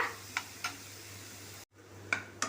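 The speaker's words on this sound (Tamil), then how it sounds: "ஒரு நிமிஷம் ஹை ஃப்ளேம்லேயே வச்சு இதை நல்லா மிக்ஸ் பண்ணி விட்டுக்கோங்க" Cabbage poriyal with grated coconut is stirred in a pan on high flame, giving a few soft, sparse spatula taps and clicks over a quiet background hum.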